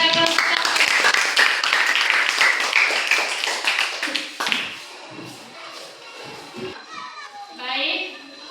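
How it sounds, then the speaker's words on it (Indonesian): Classroom applause for a student group: a burst of many hands clapping at once, mixed with children's voices, then fading into quieter chatter and shuffling. "Oke, tepuk tangan kepada kelompok."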